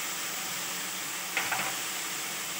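Chopped tomatoes and turmeric sizzle in a pan for dal khichdi: a constant hiss of frying, with a short scrape and clatter of stirring near the middle.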